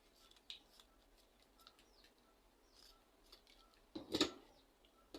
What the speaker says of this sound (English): I don't want this excess. I'll just cut it away.